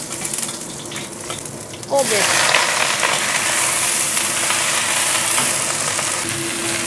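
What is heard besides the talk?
stir-frying mushrooms and egg with garlic in oil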